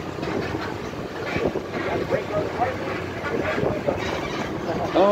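A low rumbling tram rolls past at a state fair amid crowd chatter and wind buffeting, steady and fairly near.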